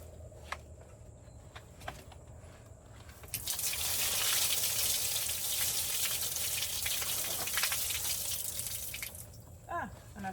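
Excess water poured out of a garden plant container, a steady gushing splash lasting several seconds after a few faint drips, then tapering to trickles.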